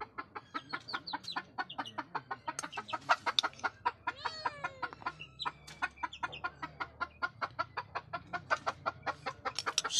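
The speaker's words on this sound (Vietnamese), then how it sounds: "Đây, gà rừng nha." A wild junglefowl rooster clucks repeatedly in a steady, rapid series of short notes at close range, with a brief squawking flurry partway through and no talking.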